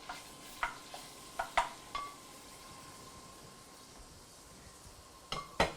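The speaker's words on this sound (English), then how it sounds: "I'm gonna throw my quarter pound of sausage into that" A quarter pound of sausage cooks in a pan, a faint steady sizzle punctuated by several sharp metallic clinks and scrapes of a utensil against the pan, close and quiet.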